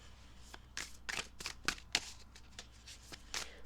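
Tarot cards being shuffled by hand, a series of quick papery riffles and flicks in irregular bursts, close and fairly quiet, with no talk over them.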